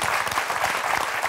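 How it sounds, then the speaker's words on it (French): A short burst of steady applause from a TV game show studio audience on Motus, dense clapping at an even level throughout with no voices standing out. "Oui, on va vous applaudir, Doretti et Lauriane."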